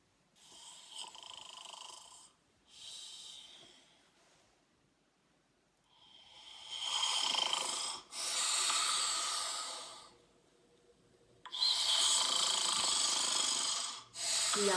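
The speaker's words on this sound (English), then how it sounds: "That means he's snoring" A sleeping man snores in long, rasping, breathy bursts, about four loud drawn-out cycles separated by quieter gaps, close and alone.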